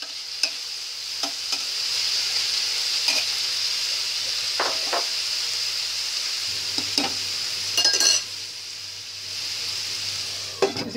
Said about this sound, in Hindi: तो टमाटर को भून लेते हैं।